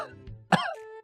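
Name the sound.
imitated goat cough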